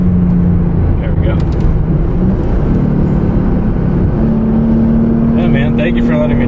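A 2008 Lexus IS 350 being driven on California roads, a steady loud engine and road drone with a shifting tone as it changes gears, with people talking inside the cabin.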